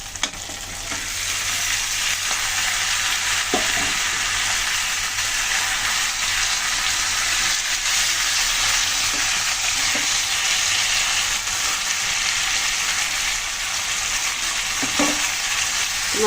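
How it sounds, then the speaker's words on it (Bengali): Fried tilapia and vegetables are stirred into a sizzling cumin spice paste in a pan, a dense steady frying hiss with occasional soft scrapes of the spoon, close and continuous, with no voices. "মাছ তরকারি দিয়ে একটু হালকা নেড়ে ফেলে নিলাম।"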